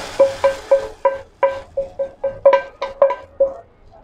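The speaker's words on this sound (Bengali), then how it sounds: "এখন আমি আসলে তেলানি দিয়ে দিচ্ছি আমার সাজনা ডালের ভিতরে।" Hot oil tempering poured into drumstick dal, giving a run of about a dozen sharp, evenly spaced clinks and stirring strokes over a soft sizzle, close and fairly loud with no talk.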